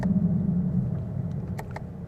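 Chevrolet Camaro engine rumbling steadily while driving, a low continuous drone with brief higher clicks near the end as the car is about to shift up from third gear.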